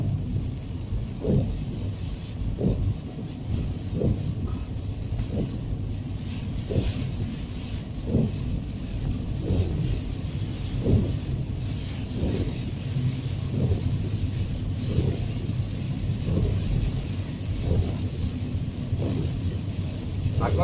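Rain in Rio Grande do Norte, heard as a steady wash of low rumble with wind buffeting the microphone, broken by regular soft thumps roughly every second and a half, without clear speech.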